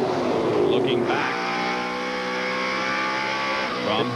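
Race car engine heard onboard from the in-car camera during a 1995 NASCAR Featherlite Southwest Tour race at Tucson Raceway Park, a loud steady droning roar with harmonic pitch shifts as the car accelerates and shifts.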